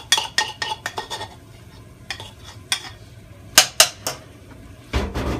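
Ground beef and garlic sizzle in a pot while a utensil stirs and scrapes against the metal in sharp, uneven strokes, with no voices over the cooking.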